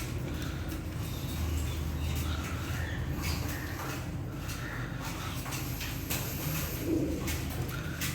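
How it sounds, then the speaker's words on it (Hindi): Pigeons gather around a dish of aloe vera and jaggery water, soft low coos rising now and then over a constant hiss of background noise, fairly faint and close by. "कबूतर आते जाएंगे और पीते जाएंगे।"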